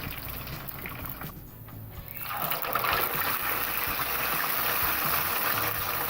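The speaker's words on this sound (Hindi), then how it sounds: "इसी तरीके से हम सारी फिश डीप फ्राई कर लेंगे।" Fish deep frying in hot oil, a steady close bubbling hiss that dips briefly and then swells louder and fuller for the rest of the time, with no talking.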